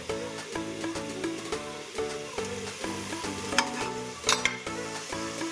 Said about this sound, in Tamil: கொழுப்பை போட்டு உருக்கி பார்த்தேன்